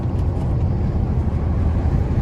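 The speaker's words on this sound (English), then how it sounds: "let me roll the window down so y'all can hear the engine one time" A Dodge Scat Pack engine at night, heard through an open window as a constant heavy rumble mixed with broad wind-like noise, loud and unbroken.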